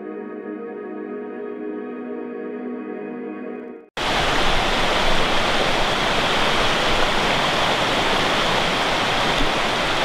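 River rushing in a steady, loud, broadband roar of fast water near an abandoned campground, starting abruptly after a few seconds of a different tonal sound and continuing unbroken.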